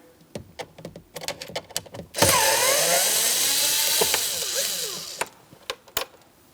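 7mm mounting bolts are removed from a 2015-2025 Ford Transit 250 during a front strut swap, with sharp ratchet clicks followed by a loud whirring run of a powered tool, then more clicks.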